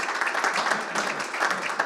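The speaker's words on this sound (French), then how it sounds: "Oui, on peut l'applaudir." An audience applauds at a French business conference, a dense, even patter of many hands clapping throughout, moderately loud and steady.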